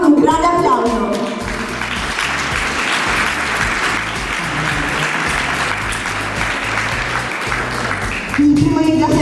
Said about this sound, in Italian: ringraziamo con un grande applauso